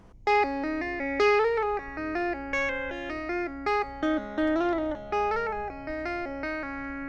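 Clean electric guitar notes played by tapping with the compressor pedal off, a quick series of distinct pitches with uneven attacks and some softer notes, alone and close.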